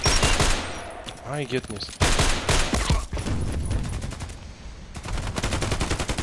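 Loud bursts of gunfire in a shooter video game, rapid fusillades and machine-gun volleys recurring across the clip, with someone speaking briefly over the shooting.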